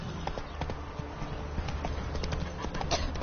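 Horse hooves clip-clopping in The Witcher 3 video game, a steady rhythmic trot of hoof strikes close by with faint background ambience.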